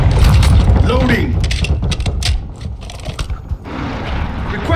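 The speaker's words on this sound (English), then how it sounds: "Reloading." Weapon reload in Call of Duty MWII Invasion mode on the Santa Seña map, quick metallic clicks and ratcheting clacks of a magazine swap up close, with battlefield rumble and brief voice callouts.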